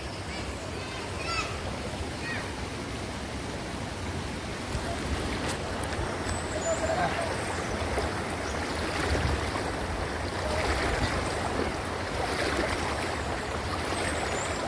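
Water flows and rushes at Puray Falls in a continuous, broad hiss of moderate loudness, with faint birdlike chirps and occasional distant sounds over the steady stream.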